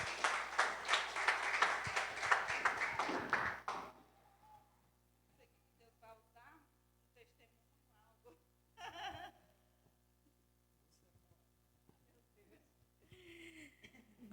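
A church congregation at a couples' gathering breaks into loud, dense applause for the first few seconds. It then dies away to a quiet room with faint scattered sounds.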